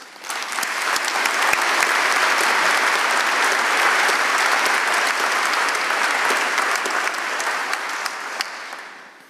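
Steady, dense audience applause fills a graduation ceremony hall as a professor is welcomed to the stage, sustained at full strength for several seconds before tapering slightly at the end.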